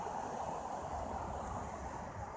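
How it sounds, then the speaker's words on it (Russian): Strong wind blows outdoors at the Mosfilmovsky residential complex in Moscow, a steady, fairly quiet rushing noise that never lets up, with no voices. "Правда, ветер сильный."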